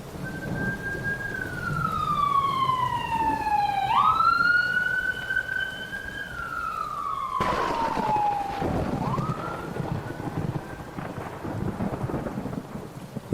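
An ambulance siren wails in rising and falling sweeps, loud and close, then cuts and restarts, with rain and rumbling thunder underneath.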